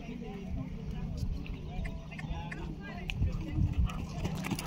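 A pony trots at a cross-country eventing competition, with faint rhythmic hoofbeats thudding over a low, noisy outdoor background.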